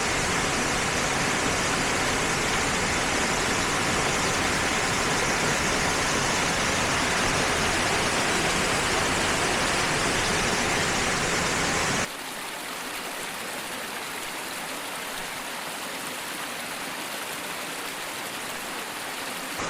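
A waterfall on the Four Waterfalls Trail in South Wales pours in a loud, steady roar of rushing water that fills the whole clip, dropping suddenly to a somewhat quieter, thinner rush partway through.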